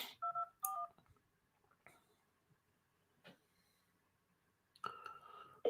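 Telephone dialing tones during a commercial real estate cold call: a few short, close touch-tone beeps at the start, then near silence with faint clicks, and another burst of tones near the end.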